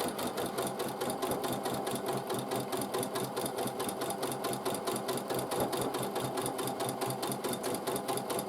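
A sewing machine stitches diagonal quilting lines across cotton patchwork squares, a fast, even mechanical chatter that runs steadily and close without pause.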